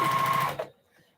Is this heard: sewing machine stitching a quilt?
yes